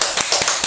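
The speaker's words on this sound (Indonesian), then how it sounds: "Kasih tepuk tangan dulu yuk buat sahabat Gusti" Hand clapping: three or four quick, sharp claps in under a second, close and fairly loud.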